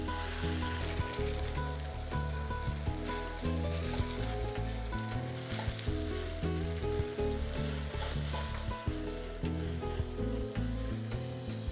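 Garlic and ginger sizzle steadily in a hot frying pan, a continuous crackling hiss with faint scraping and clatter of a utensil, no talking.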